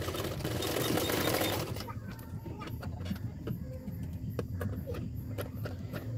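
A sewing machine stitches a folded neckline with small pleats on a blouse, running in a fast, loud burst at first, then easing into lighter, quieter stitching with scattered clicks.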